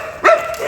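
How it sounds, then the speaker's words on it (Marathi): A single sharp dog bark rings out at close range on a quiet night street, followed by a faint lingering yip and low background hiss. "आणि आता कुत्रे भेटले."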